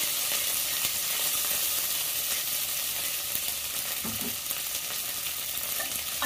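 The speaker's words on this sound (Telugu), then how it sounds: "వేసుకొని ఇవన్నీ ఇలా ఫ్రై చేసుకోవాలి" Mint sprigs and coriander leaves frying in oil in a pan for chicken gravy, giving a steady, dense sizzle throughout with a brief stir partway through.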